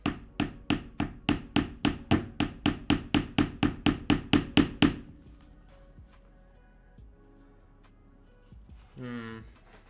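A wooden WoodTrick puzzle safe piece is smacked about twenty times in a quick, even rhythm of sharp close knocks, followed by quiet handling sounds and a brief voice near the end.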